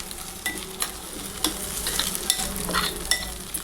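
Masala noodles fry in a pan with a steady close sizzle while a spatula stirs and scrapes through them in regular strokes, with no voices.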